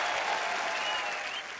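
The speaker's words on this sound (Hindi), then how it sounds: "एक बार जोरदार तालियां हो जाए मिस्टर राज कुंद्रा के लिए" Studio audience at a comedy talk show bursts into steady, sustained applause, a dense even wash of clapping that fades slightly toward the end.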